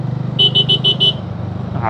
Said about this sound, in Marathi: हॉर्न मारला तरी बघत नाही जायला